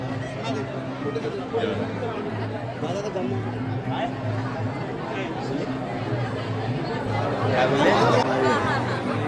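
A packed wedding hall fills with dense crowd chatter, many overlapping voices forming a constant babble that swells slightly near the end, with no single speaker standing out.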